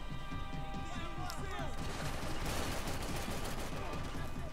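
Rapid gunfire from Max Payne 3 rattles in dense, continuous bursts with sharp cracks and a busy, loud action soundscape.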